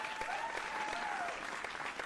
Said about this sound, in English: Let's have a round of applause for that.